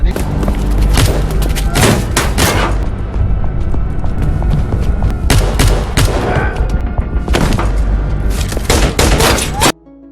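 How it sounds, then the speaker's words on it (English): Loud gunfire rings out in a film shootout, with dense bursts of shots and heavy thuds in clusters, separated by brief lulls and ending abruptly. "someone shoots Red Star, and a shootout ensues"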